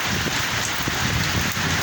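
Steady, dense typhoon rainfall pours down in a continuous broadband roar in San Fernando, Pampanga, with no voices or breaks.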